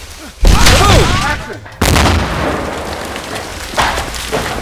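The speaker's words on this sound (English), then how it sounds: "A piece of dynamite comes lobbing over, lands at his feet." Dynamite blast in a staged action film scene: a loud, close boom bursts in, a second heavy blast follows, and a long rumbling wash of debris and reverberation trails off with smaller thuds.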